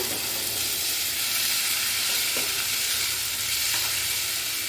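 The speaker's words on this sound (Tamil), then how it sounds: "இப்போ இதை எல்லாத்தையும் நல்லா சேர்த்து மிக்ஸ் பண்ணி கொடுங்க" Tomato paste is stirred into chili powder frying in a pan for an okra kara kulambu, producing a constant loud sizzle with occasional soft scrapes of stirring.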